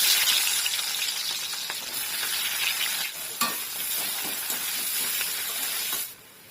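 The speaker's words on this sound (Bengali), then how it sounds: "পেঁয়াজটা দেখুন ভাজা হয়ে গেছে, হালকা ব্রাউন হয়ে এসছে।" Loud, constant hissing sizzle of onions frying in hot oil with whole cinnamon, cloves and cardamom, with occasional stirring scrapes, cutting off abruptly near the end.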